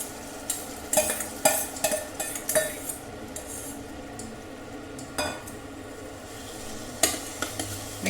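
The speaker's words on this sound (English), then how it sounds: "Keeping the heat on low. Add the cooked millet." Cooked millet goes into a pan on low heat for kalkandu saadham, a sweet rice-style dish, with a low sizzle under repeated clanks and scrapes of a ladle stirring against metal.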